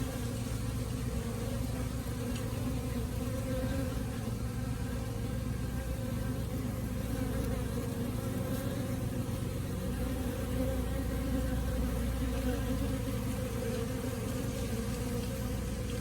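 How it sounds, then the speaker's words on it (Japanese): Japanese honeybee swarm moving into a wooden hive box, a steady dense buzzing hum from many bees close by with no talk, lasting throughout. "この蜂は腹部の先端を白くして持ち上げ、集合フェロモンを放出しています。"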